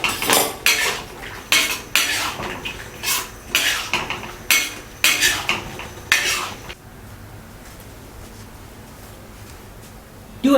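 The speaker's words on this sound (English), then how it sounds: "Add the cornstarch slurry to thicken the sauce." A utensil stirring cornstarch slurry into a mushroom stir-fry sauce in a pan, with rhythmic loud clinks and scrapes against the metal for about seven seconds, then near quiet.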